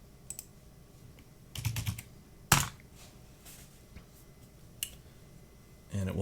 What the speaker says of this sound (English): And then at this point, we're going to type make.